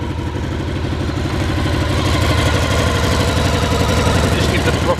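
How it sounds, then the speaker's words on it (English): A motorcycle fitted with a Scorpion exhaust, baffle in, idles with a steady, throaty burble from the exhaust, continuous and fairly loud throughout. "You can hear the Scorpion exhaust burbling away there."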